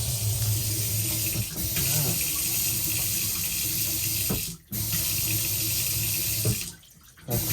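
Cold water runs steadily from an RV kitchen faucet with a constant splashing hiss, cutting off briefly twice as the tap is adjusted, while someone speaks over it.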